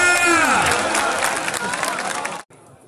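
A crowd at a live performance contest claps and cheers loudly and steadily, with whoops and shouting voices mixed in, before the noise cuts off abruptly near the end.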